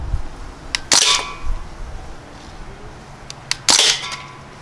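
A Crosman Panther Arms DPMS BB rifle fires in semi-auto at a Pepsi can, giving two sharp close cracks about three seconds apart with a few lighter ticks and clicks between them.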